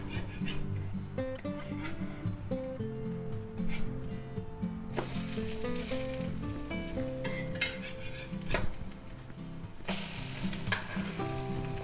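Eggs sizzle in a hot pan while a spatula flips them, bringing a steady frying hiss broken by a few sharp clicks and scrapes of utensil against pan, heard close with no talking.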